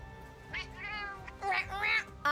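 Cartoonish cats meow in the Monster Hunter Stories 3 video game, a few short, close mewing calls in quick succession over soft game ambience.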